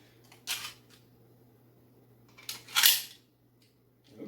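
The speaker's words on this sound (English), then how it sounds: "You drop the magazine." Pistol magazine dropping free of the grip, heard as a few sharp, close clicks and a brief clattering knock in an otherwise quiet room.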